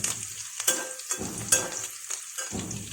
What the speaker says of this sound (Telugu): ఉల్లిపాయ బాగా వేగిపోయిందండి.